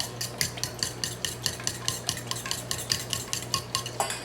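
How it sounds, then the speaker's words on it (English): A utensil whisks oil into eggs in a bowl for bran muffins, a quick, regular rhythm of light clinking strokes repeating steadily and close by, no voices. "I'm going to add the oil to the eggs."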